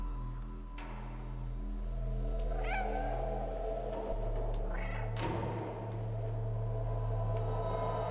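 A cat meows a few times in the video game Stray, clear over a low humming, droning game ambience with occasional soft thuds.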